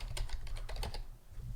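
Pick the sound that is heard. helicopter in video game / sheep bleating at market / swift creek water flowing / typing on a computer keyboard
typing on a computer keyboard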